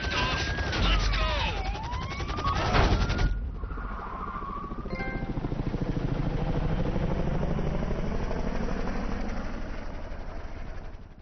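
A helicopter in GTA 5 Online lifts off after sirens wail and a crash, its rotor settling into a loud, steady, rhythmic chop that swells and carries on for several seconds.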